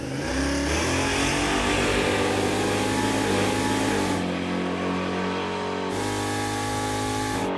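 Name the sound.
Chevrolet Impala drag car launching off the starting line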